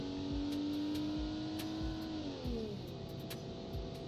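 An old-school automatic replica car in the Automation game accelerates, its engine tone climbing steadily, then dropping as the gearbox shifts up, with a steady mechanical drone throughout and no talk.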